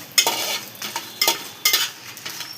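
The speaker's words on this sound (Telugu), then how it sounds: "ఎండుమిరపకాయలు కూడా లో ఫ్లేమ్లో మనం వేయించుకోవచ్చు." Dry red chillies roasting in a pan with a spoon of oil over a low flame, with sharp scraping strokes of a spoon stirring them at an irregular rhythm.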